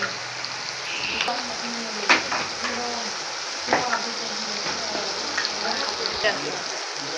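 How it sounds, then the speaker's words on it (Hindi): Beef frying in a pan with garlic and onion gives a steady sizzle, broken by a few sharp clinks and scrapes of stirring, with a faint voice in the background. "बीफ बन रहा है, लहसुन और प्याज इसमें हम डाल देंगे।"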